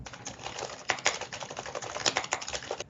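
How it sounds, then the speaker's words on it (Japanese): Typing on a computer keyboard, picked up by an Insta360 Link webcam's built-in mic: a steady run of fast, fairly close key clicks with a few louder strokes, no voices. "タイプ音はいかがでしょうか"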